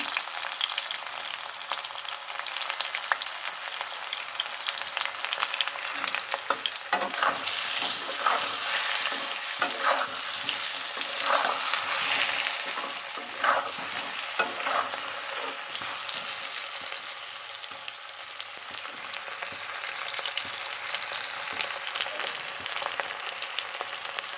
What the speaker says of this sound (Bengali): দেখুন আলু আমার ভাজা গেছে, এরকম লাল লাল করে ভেজে নিতে হবে।